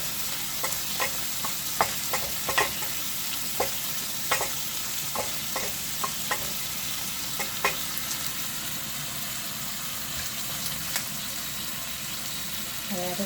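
Carrots are stirred and sautéed in a pot with a steady sizzle throughout, broken by light, irregular clicks and scrapes of stirring; no one talks.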